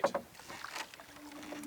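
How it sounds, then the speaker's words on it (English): A canoe paddle strokes and splashes through the water of Kingscote Lake in Algonquin on a hot day, two quick close dips followed by gentle dripping and a faint drift of wind. "now that that's all over and we're actually out canoeing"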